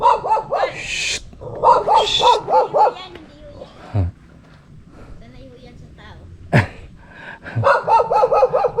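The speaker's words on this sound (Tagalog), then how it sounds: "May mga bantay na aso." Guard dogs at a hillside campsite in Tiaong, Quezon bark in quick rhythmic volleys of four or five yaps, fairly close and loud, with people talking between the bursts.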